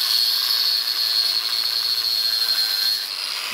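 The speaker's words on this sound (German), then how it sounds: "Ich schneide wieder einen von den Kabelschuhen zurecht" Cutting a copper cable lug to size for a ground cable in a workshop, a steady bright, raspy cutting noise running continuously at close range with no talk.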